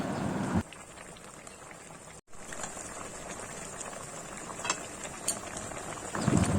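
A pot of fish curry bubbles at a steady simmer, a low continuous gurgling hiss close by, with a brief clunk and a few soft knocks.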